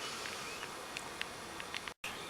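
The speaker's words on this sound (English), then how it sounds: "that is just one ball of bees" A swarm of honey bees massed in a single ball, giving a faint, continuous hum with a few brief higher buzzes, steady and fairly distant.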